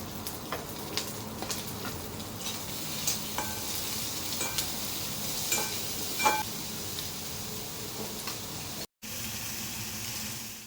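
Onion and capsicum fry in a pan with a soft, steady sizzle, while a utensil stirs them with intermittent scraping taps; the sound is close and fairly quiet, with no talk.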